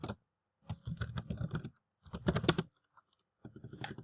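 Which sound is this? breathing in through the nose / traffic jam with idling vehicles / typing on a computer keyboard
typing on a computer keyboard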